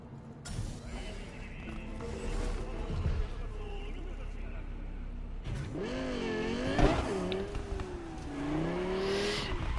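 A car drives in the video game Cyberpunk 2077 Phantom Liberty, its engine a low, fairly faint rumble that swells at times. Someone talks over it throughout.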